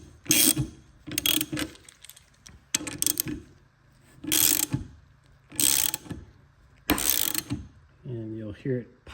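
A ratchet tightens a bolt to press a bushing out of a Lotus Elise S1 suspension, with six close, loud clicking strokes separated by short pauses, then a brief voice at the end.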